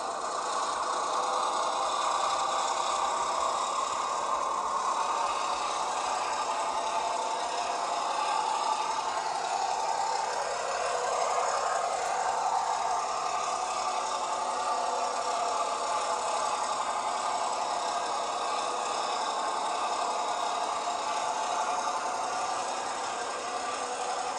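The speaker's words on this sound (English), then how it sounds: "I do love how it revs up before it starts moving" A small Rapido model locomotive motor whirs and drones steadily, its pitch climbing briefly midway as it revs before moving off, continuous and fairly loud.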